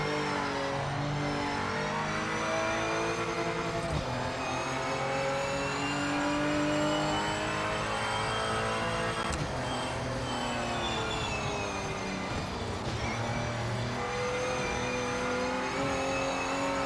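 A race car engine in Project Motor Racing revs continuously and loudly at close range, with repeated gear shifts and a pitch that rises and falls and no talking over it.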